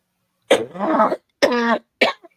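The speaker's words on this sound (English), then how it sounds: "now y'all get to listen to me cough and choke" Several harsh coughs in quick succession, close by, with a throaty, rasping quality and brief silences between.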